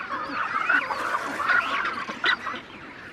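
Cormorant chicks on the Falkland Islands beg their parents for food with a continuous wheezy, honking chorus of nasal calls, close and fairly loud, with a few sharper squawks rising above the clamour.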